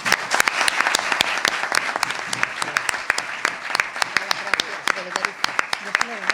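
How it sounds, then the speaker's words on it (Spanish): Sustained audience applause at a Spanish round-table event on the 1970 flood, dense and steady with sharp individual claps standing out, fairly close and loud throughout. "y nuestro aplauso"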